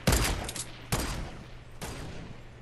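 Gunfire in the Fortnite video game, with three bursts of shots at steady intervals, each a sharp loud attack that decays into a lingering rumble under a constant low game hum.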